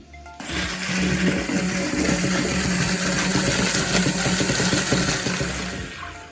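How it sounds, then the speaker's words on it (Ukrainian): A blender whirs steadily for several seconds, mixing a pepper-and-salt salad dressing, a loud continuous churning buzz that starts abruptly and holds without pause. "А далі це все перебиваємо блендером"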